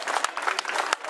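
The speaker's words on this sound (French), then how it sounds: "sur vos applaudissements de la Bretagne" Spectators applaud at the podium ceremony of a junior cycling race in Brittany, a lively patter of clapping with a few sharper individual claps standing out, fairly close and steady throughout.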